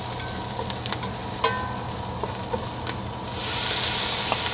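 Tomatoes go into a hot pan for braised lamb shanks, sizzling steadily with scattered sharp clinks and scrapes of stirring, then a louder surge of hissing toward the end.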